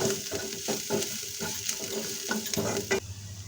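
Anardana (dried pomegranate seeds) and deghi mirch chilli powder are lightly roasted in a pan for stuffed capsicum, a soft steady sizzle with scraping spoon stirs, close and quiet, with no voice.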